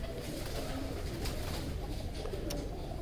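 Pigeons coo softly amid a steady, dense background murmur of a loft, with low repeated calls running throughout and no clear talk.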